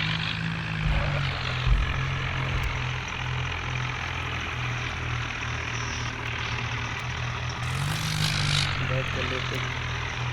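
A JCB's engine in a tractor video game drones steadily with a low, rumbling hum throughout, while a voice talks over it.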